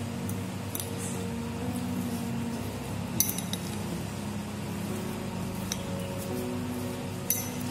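Cheddar chicken ingredients being stirred in a pan, with a steady sizzle under light scraping and clinks of a utensil against the pan, plus a couple of sharper knocks.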